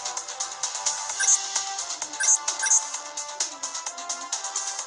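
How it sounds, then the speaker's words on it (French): A mobile phone rings with a repeating electronic ringtone for an incoming call, loud and close, pulsing in a steady melodic pattern with no talk over it. "Attendez, on m'appelle. Bon, voilà, quelqu'un m'a sonné."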